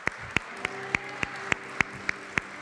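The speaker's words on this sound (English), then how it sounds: "Let's have another round of applause for our director" A single pair of hands claps a steady, evenly spaced run of about ten sharp claps for a director at an event honoring women who lead, close and distinct over faint background hum.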